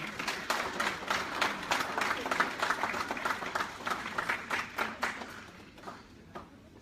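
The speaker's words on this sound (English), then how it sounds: "Let's keep clapping as they come." An audience at a Nigerian nurses' charity association gathering in the UK claps steadily for several seconds, a dense crowd applause that thins out and fades near the end.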